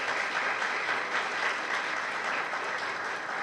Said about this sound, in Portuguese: queria que você aplaudisse a Deus pela vida desse irmão aí